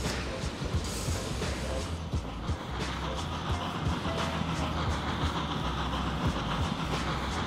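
A train in the game Transport Fever 2 rolls into a station with a steady rumbling drone and faint rhythmic wheel clatter, continuous and fairly loud, with no one speaking.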